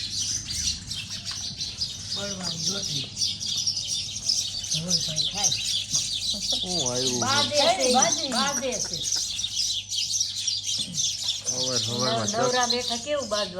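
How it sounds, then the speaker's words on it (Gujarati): Sparrows chirp busily through a morning on a farm, dense high twittering running throughout while people talk over it in the foreground. "ચકલાની શાંતિ નથી હવારમાં."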